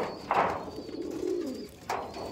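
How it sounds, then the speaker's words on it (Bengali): A male Madrasi pigeon coos in a loft, giving a soft, low, rolling call that swells and fades over about two seconds, with a brief wing or body rustle at its start and another near its end. "ওই দেখুন ওই সাইডে মেলটা ডাক দিচ্ছে"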